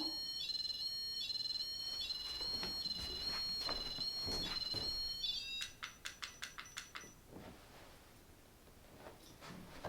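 A REM pod ghost-hunting device goes off in a dark venue, a shrill steady electronic tone with pulsing clicks that cuts out into a string of sharp rhythmic beeps, then quieter shuffling.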